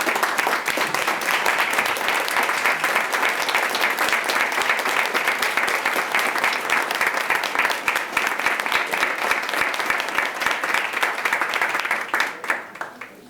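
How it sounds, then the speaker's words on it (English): A school board meeting audience applauds in a dense, loud, sustained roar of clapping lasting over ten seconds before tapering off abruptly at the end. "I'd like everyone to join me in giving them a round of applause."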